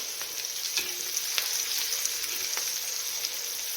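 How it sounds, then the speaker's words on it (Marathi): Stuffed green chillies fry in a pan with a steady close sizzle, punctuated by small sharp pops and crackles, no voices over it. "वरच्या बाजूने पण आपण हे सर्व फ्राय करून घेऊया"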